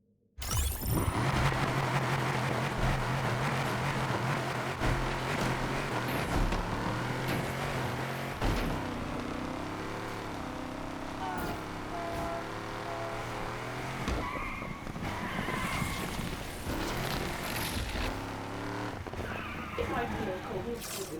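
A 1975 Volvo 242 DL tuned to 854 horsepower races in Need for Speed Unbound, its engine revving hard and shifting through gears with screeching tires over about twenty seconds while a player talks.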